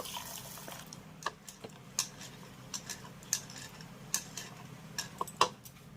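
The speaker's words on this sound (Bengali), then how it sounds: "আর এবার আমি ডালটাকে খুব ভালো করে ধুয়ে নেব" Red lentils being washed in water in a kitchen bowl, faint scattered ticks and soft splashes of grains and liquid, quiet and close.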